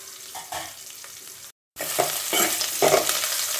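Onions fry lightly in a pan for okra rasam, crackling with a steady close sizzle and stirring scrapes; a brief cut of silence splits the sound, after which the frying returns louder and brighter.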